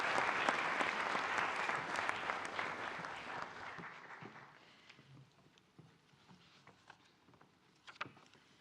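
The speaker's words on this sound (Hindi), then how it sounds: "माननीय राष्ट्रपति महोदया के लिए जोरदार ताली से उनका स्वागत करें।" Loud audience applause at a national children's award ceremony, welcoming the President; dense clapping fills the hall at first, then thins and fades to scattered claps.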